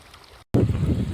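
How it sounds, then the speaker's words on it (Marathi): Water running at full flow to water garden plants: a loud, close rushing wash that cuts out for a moment, then surges back. "पाणी असलं ना फुल पाणी चालू आहे"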